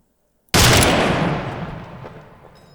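A single loud gunshot in the military game Arma 3, a sharp crack that rings out and fades slowly over about two seconds, heard alone with no talk.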